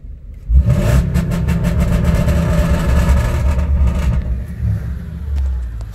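A Ferrari 360 Modena engine heard from outside the car, starting up and then revving loudly and steadily for several seconds before settling lower, close by, with no talking.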